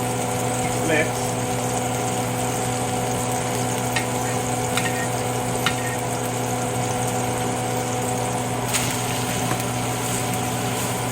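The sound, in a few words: panko and oregano crusted pork searing in a pan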